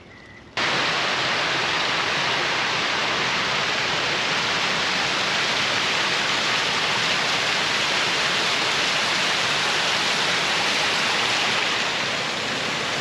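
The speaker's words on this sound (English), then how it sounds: "Now that is a water feature." Steady, loud rush of splashing water from a large fountain in Chapultepec Park, a continuous broadband roar that fills the whole stretch without pause or voices.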